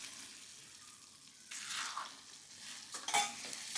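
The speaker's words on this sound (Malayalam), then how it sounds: "ലൂസാക്കിയെടുത്ത കോൺഫ്ലോർ ചട്ടിയിലേക്ക് ഒഴിച്ച് മിക്സ് ചെയ്യാം" Cornflour slurry goes into a hot pan of chilli chicken and is stirred through, with soft sizzling, scraping strokes and a few light utensil clinks close by.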